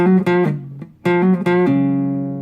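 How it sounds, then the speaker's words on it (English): Notes on a guitar in alternate tuning hammered on and pulled off with the pinky over a held chord, a quick flurry of plucked notes with a brief pause, then more hammer-ons settling into a ringing sustained tone. "this little sort of hammer on and off thing with my pinky to kind of give it a little extra note on top"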